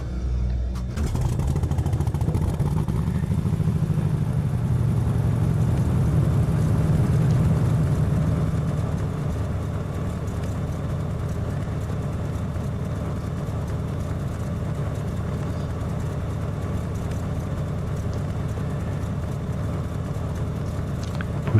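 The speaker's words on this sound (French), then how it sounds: "Démarrage de moteur." A Cessna T210 Centurion's piston aircraft engine starts up on the ground at Tarbes-Lourdes airport, a loud low rumble that swells for several seconds, then settles into a steady, slightly quieter idle that runs to the end.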